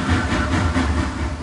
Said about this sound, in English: And here comes the Alpha Train here.